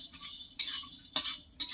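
Lentil dumplings (bori) being stirred in a wok, with scraping, clinking utensil strokes in three or four short bursts and quieter rattling between them.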